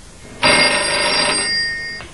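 A normal home telephone in a kitchen rings once with a loud bright electronic tone that starts abruptly and holds for about a second and a half, alone in a quiet room.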